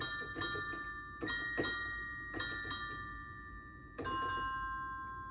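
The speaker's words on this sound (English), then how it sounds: "a glockenspiel is kind of it's a mallet instrument that sounds like" Bright, bell-like mallet notes on a glockenspiel in an Italian-style hip hop beat made in Reason 11, struck in small clusters with long ringing decays, fairly quiet and close.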